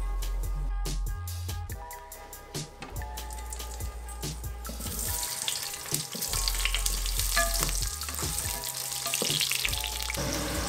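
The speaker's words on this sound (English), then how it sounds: "Then I'll saute it for a while till it gets a golden color." Boiled, peeled baby potatoes sauté in a pan for an Indian dinner, a continuous loud frying hiss that swells and grows denser midway, with clinking and stirring knocks scattered over it and no talk.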